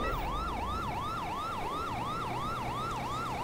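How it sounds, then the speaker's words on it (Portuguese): A wailing emergency siren is played as a sound effect on a livestream, rising and falling steadily about three times a second. It is loud and continuous, with no talk over it. "Não entrava aquela sirene, Daniel."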